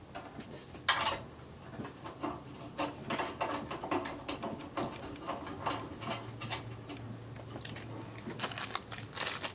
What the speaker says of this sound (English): it seems an awful lot like another 2 screws to undo